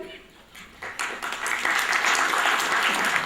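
Applause from an audience at a 2005 award function in New Delhi, building from scattered claps to a broad, steady ovation.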